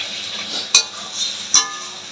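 Masala of ginger, garlic, tomato and green chilli sautéing in a pan for chicken kosha, a steady sizzle with two sharp spoon-against-pan scrapes while stirring.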